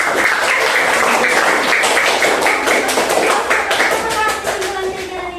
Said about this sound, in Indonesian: Oke, Binta kasih tepuk-tangan untuk Bang Prabu.